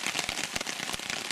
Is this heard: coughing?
no